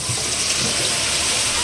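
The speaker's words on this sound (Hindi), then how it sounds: "और मम्मी फिर ऑन ड्यूटी बर्तन साफ कर रही है" A kitchen tap runs steadily while dishes are washed beneath it, a loud, close, continuous rushing of water with no voices and no distinct clatter of dishes.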